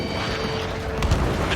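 A missile strike explodes in Ace Combat 7: Skies Unknown, a dense rumbling boom that fills the whole moment with a brief swell near the end.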